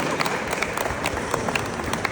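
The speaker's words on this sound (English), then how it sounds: "please clap" An audience breaks into steady, dense applause, a continuous crackle of many hands clapping at an even level throughout, with no voices standing out.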